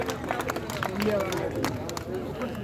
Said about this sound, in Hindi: इनके लिए भी तालियों से स्वागत करें इन भाइयों का